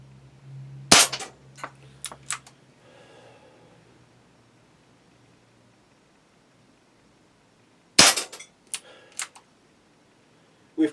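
Shots from an Umarex Smith & Wesson Model 586 air revolver fired at a biathlon target, sharp close pops in two bursts of several snappy shots each with quick metallic after-clicks, separated by a long quiet gap.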